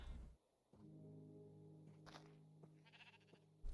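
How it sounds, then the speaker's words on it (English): Sheep bleating in the video game Minecraft, a couple of quiet wavering bleats in a short, otherwise calm stretch. "A sheep was probably the animal I was most looking forward to getting"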